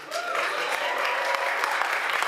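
An audience at a public budget meeting bursts into brief, dense clapping, loud and continuous for a couple of seconds with no voices over it.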